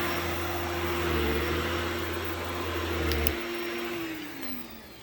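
A Shark PowerDetect vacuum cleaner runs on thick carpet, a loud steady motor whine with broadband suction noise throughout and a slight drop in pitch partway through, with no talking.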